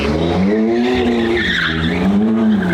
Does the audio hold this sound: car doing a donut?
yes